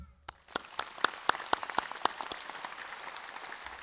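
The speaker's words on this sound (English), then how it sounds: "Please join me once more in applauding Ms. Booth." A graduation ceremony audience at James Cook University in Townsville begins applauding after a short silence, sparse sharp claps at first that quickly swell into a steady, moderate round of clapping.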